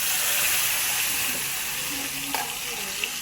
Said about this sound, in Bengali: মাছটা ভেজে নিই